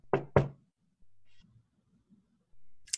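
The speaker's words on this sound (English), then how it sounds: "you hear a knock at the door." Two sharp knocks on a door ring out close and loud in quick succession, followed by near silence with faint low shuffling.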